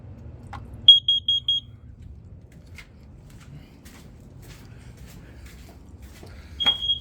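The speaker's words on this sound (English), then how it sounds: "Carbon monoxide detector." A carbon monoxide detector gives a test alarm of four quick, shrill beeps in a row. After a pause a single loud beep follows, with faint room noise and handling sounds in the background.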